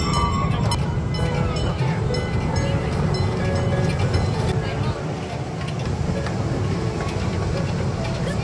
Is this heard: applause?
no